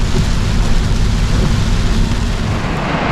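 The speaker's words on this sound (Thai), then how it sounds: "แล้วก็ฝนก็ตกแรงด้วยนะครับ" Heavy rain falls during a storm near the Nakhon Phanom border crossing and makes a loud, unbroken broadband roar that stays steady from start to end, with no speech.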